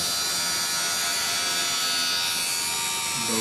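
An angle grinder runs continuously nearby, a loud, steady high-pitched whine with a dense buzzing edge that holds constant throughout.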